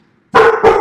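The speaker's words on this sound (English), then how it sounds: "Look at my dog barking at me." A pet dog gives two quick, sharp, loud barks close to the microphone indoors, back to back, with no voices.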